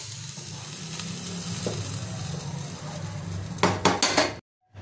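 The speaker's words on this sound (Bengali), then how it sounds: "তরকাটা এর মধ্যে আমি ঢেলে দেবো।" Hot tadka poured into dal fry, a steady sizzle followed by a quick run of sharp metallic clinks and scrapes of a utensil against the pot near the end, then sudden silence.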